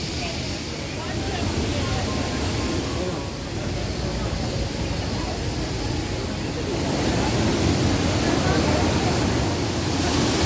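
The waterfall at Yuvarlakçay in Köyceğiz, Turkey, gives a steady, dense rushing roar of falling water that fills the whole stretch, swelling slightly toward the end, with faint crowd murmur mixed in.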